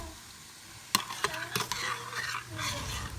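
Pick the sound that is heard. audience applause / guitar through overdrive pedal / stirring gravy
stirring gravy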